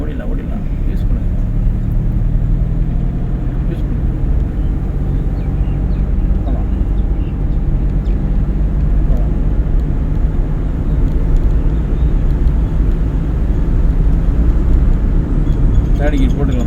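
A car's engine runs with a steady low rumble and road noise from inside the cabin during a driving lesson, while voices talk over it throughout.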